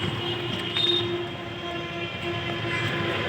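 A metro train rumbles overhead on an elevated line, a steady close roar with a faint high squeal, heard from below with no talking.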